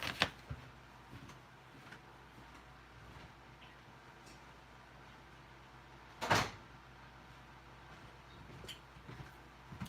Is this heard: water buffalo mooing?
no